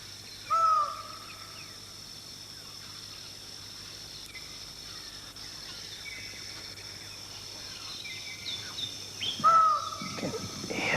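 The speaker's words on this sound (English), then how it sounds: "Listen, there's that call again. The 12-wired bird of paradise is back." Two loud, harsh calls of a twelve-wired bird of paradise ring out, one near the start and one near the end, over a quiet background of insects and distant chirps.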